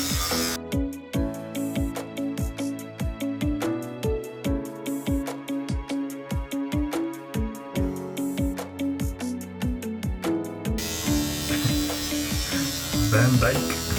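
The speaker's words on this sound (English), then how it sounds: "Oh, I hate shaving." Electric razor buzzing steadily while shaving, with a loud close hum broken by regular strokes against the face, then ending abruptly near the end.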